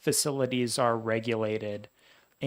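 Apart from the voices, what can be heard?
No everyday noises stand out.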